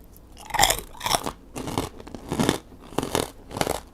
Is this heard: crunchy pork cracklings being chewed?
yes